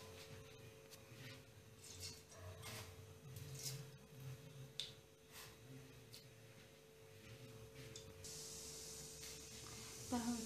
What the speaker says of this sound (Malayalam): എണ്ണ ചൂടായി, നമുക്ക് അതിലേക്ക് കടുകിട്ട് കൊടുക്കാം.